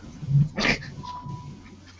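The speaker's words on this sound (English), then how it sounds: "He needs to be a big scary guard dog." A dog lets out one short bark near the middle, preceded by a low rumbling growl and followed by quieter breathy sounds, close and fairly loud.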